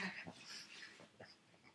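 A dog close by making brief whimpering, wheezing and snuffling noises, quiet and irregular, with no talk.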